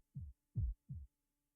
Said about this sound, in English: Assassin's noble phantasm, Sabanya, delusional heartbeat.